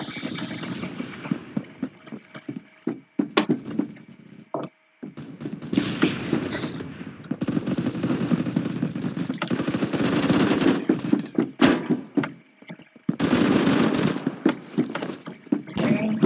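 Rapid automatic gunfire from a first-person shooter game, Phantom Forces, comes in loud bursts and sustained volleys separated by short pauses.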